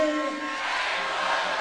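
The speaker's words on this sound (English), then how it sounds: "Big cheer for the veteran Hayward." An ice hockey arena crowd cheers for veteran player Hayward during a National League final, Leeds Knights against London Raiders, a broad sustained roar of many voices with a commentator talking over it.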